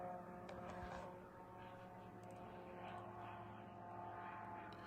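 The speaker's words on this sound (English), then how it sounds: "you could hear the audio of the drone just outside of this apartment" Drone flying over Moscow just outside an apartment, a steady droning engine hum with a constant tonal whine that holds for the whole stretch without pause, moderately loud and close.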